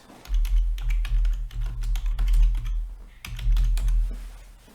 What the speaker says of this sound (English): Hear me type it.